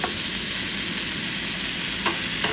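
Broccoli cooks in oil in a pan, making a loud, continuous sizzle and frying hiss with occasional scraping taps from stirring, close by and with no talking.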